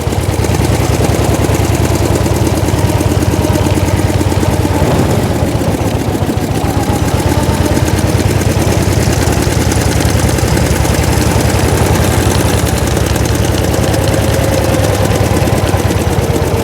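A 1904 De Dion Bouton veteran car's engine chugs loudly and continuously, a dense rapid low thudding that carries on without pause while the car drives uphill.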